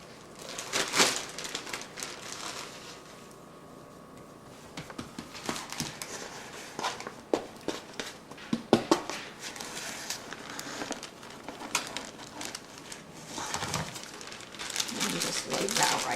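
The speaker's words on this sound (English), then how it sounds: "So here's my plastic bag." A plastic bag crinkles and rustles up close in bursts of crackly handling, while a person talks intermittently throughout.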